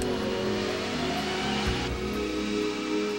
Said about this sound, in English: This car is going 30 miles an hour.